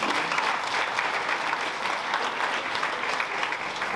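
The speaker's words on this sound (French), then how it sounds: "donc on peut les applaudir aussi" Steady applause from an audience at a mayor's New Year greetings ceremony, honoring the elected officials present; dense, continuous clapping fills the room at moderate volume without pause.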